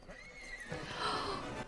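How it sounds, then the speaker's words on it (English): A horse in the animated film Tangled gives a short, high whinny that rises and wavers, heard clearly over faint soundtrack background. "I forgot about the horse."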